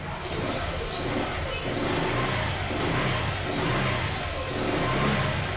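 A Honda Click motor scooter engine runs steadily at close range, a continuous buzzing drone with slight rises in pitch, no talking over it.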